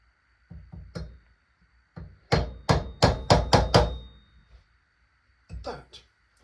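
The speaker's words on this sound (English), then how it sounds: "I just use a small hammer because I am careful." A small hammer taps a fork part on a Triumph Sprint 955i RS motorcycle: a few light knocks, then a quick run of six sharp, close metallic strikes, and two more near the end, with brief talk between.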